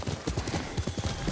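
Hooves pound in a quick, irregular galloping rhythm as a horse is ridden in Ghost of Tsushima, with several distinct thuds in close succession at moderate volume.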